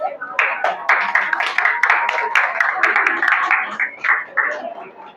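Applause at a temple's twelfth anniversary festival: a crowd clapping steadily and fairly close for several seconds, dense overlapping claps with a brief dip near the end.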